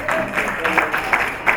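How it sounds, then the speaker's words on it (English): Applause for a Young Progressive Party flag bearer in the Osun State governorship race, a steady patter of clapping with periodic louder swells, moderately near. "A round of applause."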